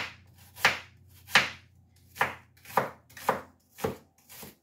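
A knife chops an onion on a cutting board, landing about seven crisp, evenly spaced strikes up close, with quiet gaps between them.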